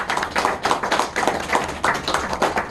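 An audience at a book concert in a Kyobo bookstore breaks into applause, a dense burst of clapping in irregular pulses lasting a few seconds with no talk over it.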